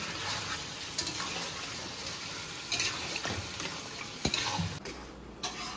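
Meat added to cooked-down spice masala in a pan, a soft steady sizzle with scraping stirs and occasional clinks of a spoon against the pan, fairly quiet and close.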